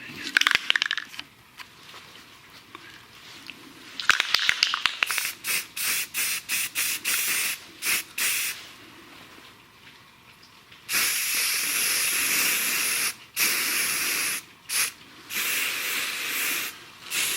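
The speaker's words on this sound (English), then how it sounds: "I don't think I've ever spray painted anything with my right hand" Aerosol can of generic red spray paint hissing in repeated bursts on Toro 1132 parts, short sprays at first, then longer steady blasts close by with brief pauses between them.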